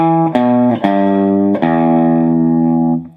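Slow blues rock riff on electric guitar using open strings: a few sustained, distorted chords struck one after another, loud and ringing with a long decay, no voices.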